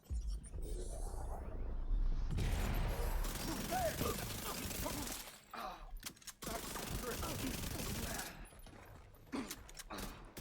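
Submachine gun fire in The Division 2 plays as rapid bursts amid busy, fairly quiet game sounds, with a brief pause partway through.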